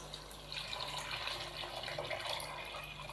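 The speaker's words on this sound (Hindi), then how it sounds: "हम पानी शामिल कर देंगे इसके अंदर।" Water pours steadily into a cooking pot of chana pulao with rice and mint, a continuous splashing, gurgling flow heard up close with no talk over it.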